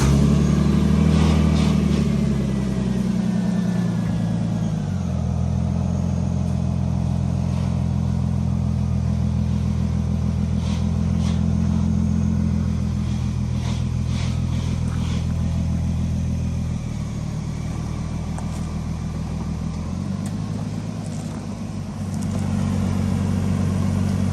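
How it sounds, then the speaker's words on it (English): A 2001–2005 Lexus IS300 on newly fitted Maxpeedingrods coilovers drives along on a test drive, its engine a steady low drone with mild swells in revs and road rumble, with no talk over it. "now we got to go for a test drive and see how it feels and how it looks after it's settled down"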